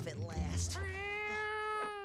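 A cat meows in a long, rising, drawn-out cry in the 1992 film The Muppet Christmas Carol, close and clear after a brief burst of voices.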